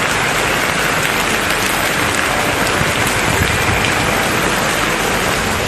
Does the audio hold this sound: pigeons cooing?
no